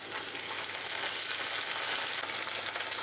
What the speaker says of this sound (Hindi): प्याज का कलर जैसे हल्का चेंज हो जाए हम डालेंगे 1 चम्मच अदरक लहसुन का पेस्ट 1 मिनट के लिए और हम फ्राई करेंगे